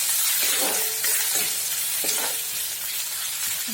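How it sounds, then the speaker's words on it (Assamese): Food frying in a pan makes a loud, continuous sizzle close by, broken every second or so by soft scraping stirs, with no voices. "এইখিনি এতিয়া মই ভালদৰে ৰঙাকৈ ভাজি লৈছোঁ"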